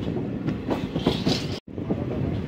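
A train rumbles steadily along the rails with a clattering roar, loud and close, briefly cutting out for a moment, just after passing through a tunnel on the Kasara Ghat mountain line.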